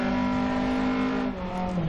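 Car engine held at full throttle during a night stage in DiRT Rally 2.0, a steady high-pitched drone with strong harmonics that dips slightly near the end, loud and continuous with no talking.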